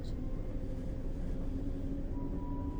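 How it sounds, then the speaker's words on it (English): A train rolls steadily uphill, a continuous low rumble of the engine and carriages with a faint tonal hum running throughout. "The engine working a little harder up front."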